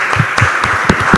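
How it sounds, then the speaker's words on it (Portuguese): A congregation applauds during a church service, with rhythmic, fairly loud clapping from a group filling the brief moment with no voices over it. "Você pode aplaudir ao Senhor?"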